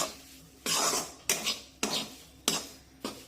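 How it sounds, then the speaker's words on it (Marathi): A spatula scrapes through besan flour roasting in ghee in a pan over a low flame: five close, rhythmic scraping strokes about half a second apart, with no voices. "मंदाच्यावर हे बेसन पीठ मी एकसारखं असं उलटण्याने हलवून घेते"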